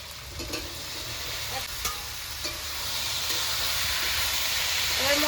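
Boiled peas and potatoes are stirred into a spice masala in a pan on the stove, a continuous sizzle and hiss with scattered spoon scrapes that grows slightly louder toward the end.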